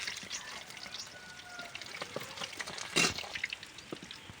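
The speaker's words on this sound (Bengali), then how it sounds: "কড়া গরম হয়ে গেছে এবার তেল দিয়ে দিচ্ছি" Oil goes into a hot wok and starts frying, making a soft, steady sizzle with a brief louder splash of pouring and a few light clatters.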